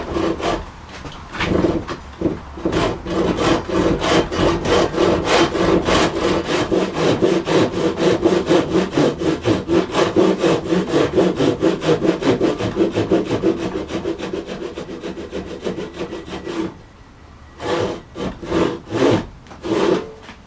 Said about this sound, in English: I'm going to try to get the first part of it by just sawing a bit of a notch